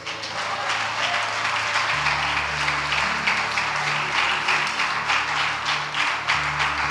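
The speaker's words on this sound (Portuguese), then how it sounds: "E as palmas, louve a Deus." At the end of an evangelical teaching service, a church congregation claps together in a continuous, fairly loud patter while low sustained music tones play underneath throughout.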